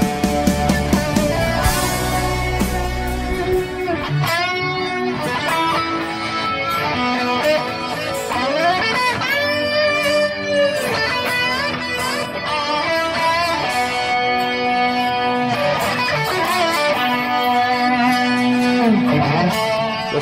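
Sustained electric guitar with a thick, fuzzy Big Muff tone playing a slow melodic line, its notes trailing off in echoing delay repeats, loud and continuous throughout.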